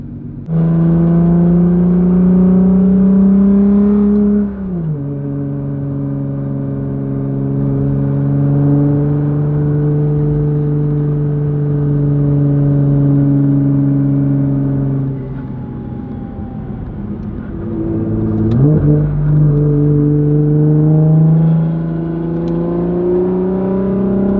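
A Subaru STi hatchback's engine drones loud and steady, then blips sharply twice as it downshifts with automatic rev matching, the pitch jumping up before settling into a lower, even hum.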